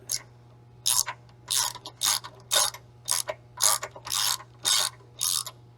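A ratchet tightens a spark plug on a Honda engine in about ten rhythmic bursts of close, crisp clicking, evenly spaced over a faint steady hum.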